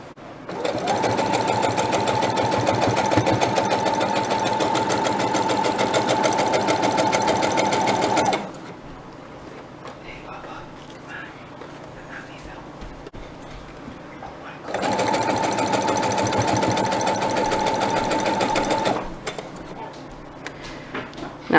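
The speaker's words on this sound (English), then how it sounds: "my sewing machine is sensitive" A sewing machine runs in two long, steady bursts of rapid whirring stitching through thick quilt layers, separated by a quieter pause with faint handling sounds.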